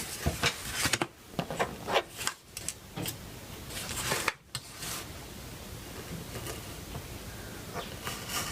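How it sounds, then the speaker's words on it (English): Someone bevels the foam rudder of a FoamCub RC plane with a blade. Short, close scraping and cutting strokes arrive in uneven bursts, then give way to a quieter, steadier rasping. "bevel the rudder."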